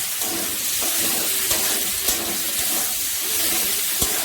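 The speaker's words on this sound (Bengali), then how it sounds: "এখন টমেটো কুচিগুলো দিয়ে দেবো। ভালো করে নাড়াচাড়া দিয়ে দেবো।" Chopped tomatoes hit a pan of frying Bengali-style chicken kosha and get stirred through, a steady close hiss and sizzle with a few soft scraping knocks from the spoon.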